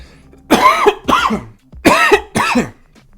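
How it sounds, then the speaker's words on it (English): Four harsh, throaty coughs come in two quick pairs, close and loud, with short gaps between them. "now my eyes look super glossy from that cough"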